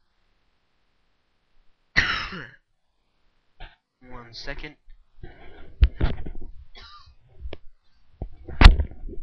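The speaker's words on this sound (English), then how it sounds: "I had to cough" A single sharp cough from a sick person close to the microphone, followed by him talking and another short throat-clearing burst near the end.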